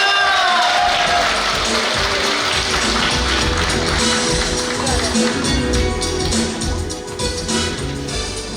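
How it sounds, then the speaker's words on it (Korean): Audience applause at a Jeju Catholic diocese gathering honoring elderly parishioners: a dense, steady wash of many hands clapping from a crowd, loud and sustained throughout, with some voices mixed in. "여러분 큰 박수 부탁드리겠습니다"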